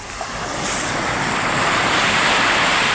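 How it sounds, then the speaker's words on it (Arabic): Sea waves wash onto a sandy beach on a morning near M'diq, a broad continuous roar of surf that builds slightly and holds, with wind buffeting the microphone and no voices. "وتسمعوا شويه ضريبه المواج على الصباح"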